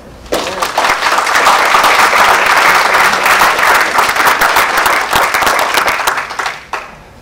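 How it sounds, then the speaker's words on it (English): Loud, full audience applause for the judges at a public speaking forum final, a thick continuous clapping that starts abruptly, sustains for about six seconds, then drops away quickly. "Please a round of applause for our judges"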